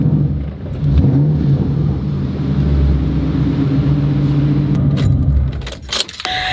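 The Terminator Cobra car drives past nearby with a steady engine drone and rising whir, ending in a few sharp clicks and clatter.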